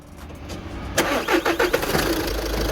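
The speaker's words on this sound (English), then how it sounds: "Let's start it up." A VW Passat with a 1.6 TDI diesel engine cranks briefly and catches, rising into a loud, close idle that settles into a steady rumble.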